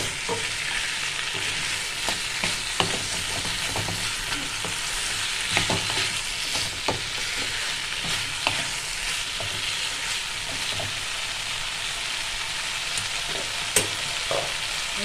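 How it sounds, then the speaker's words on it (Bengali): Banana stem cooks on low heat, a continuous soft sizzle broken by regular clicks and scrapes of a spatula stirring it around the pan, near and even throughout. "এইভাবে ভালো করে নাড়াচাড়া করতে হবে। আমি 5 মিনিট এইটাকে ভালো করে কম আঁচে কষিয়ে নেব ভালো করে।"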